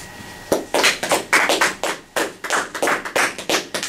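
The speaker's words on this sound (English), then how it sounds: "Let's give him a warm round of applause, please." A live audience at a Toastmasters club meeting claps for a speaker, loud and close, with uneven bursts of hand claps rising and falling over several seconds.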